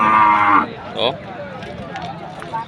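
Cattle mooing at a livestock sale, a loud low bellow in the first half-second followed by a shorter rising call, with speech and farm noise continuing underneath.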